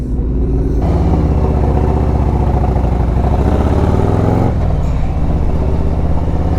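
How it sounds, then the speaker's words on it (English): A motorcycle engine fitted with aftermarket tab exhausts rumbles loudly and close, a throaty, steady idle with a brief rev shift midway and no talk. "I just love the way this bike sounds with those tab exhaust on here."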